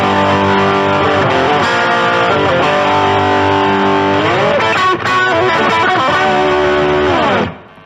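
An electric guitar played through a Vox VX15GT modeling amp on a Soldano-style high-gain setting rings out thick, distorted chords and sustained notes, cutting off abruptly near the end.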